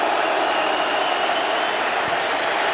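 Stadium crowd roaring at Lumen Field during a rainy Bears at Seahawks NFL game, as Seahawks player Carlos Dunlap urges fans on; a dense, steady wall of cheering noise holds throughout.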